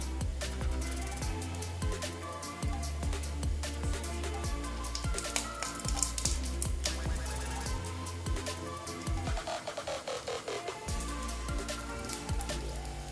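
Egg fritters fry in a pan on lowered heat, giving a steady crackling sizzle with dense popping and spitting throughout, fairly close and alone with no voices.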